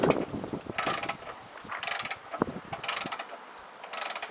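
Wrench being cranked on a front fender bolt of a Yamaha XVS 650 motorcycle, a repeated ratcheting clicks in four rhythmic bursts, close and fairly quiet with no talking.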